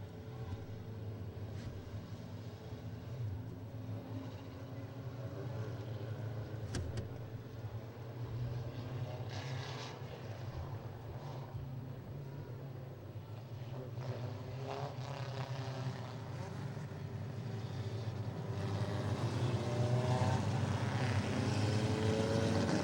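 Mini stock race cars rolling around the new Paris Speedway on their final pace lap on opening night, a continuous engine drone that slowly builds louder toward the end, with no talk.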